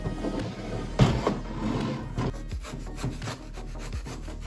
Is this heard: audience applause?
no